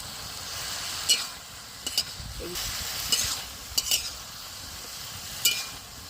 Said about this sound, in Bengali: মাছের মুড়োগুলো দিয়ে ধারে ধারে করে নেড়ে নিচ্ছি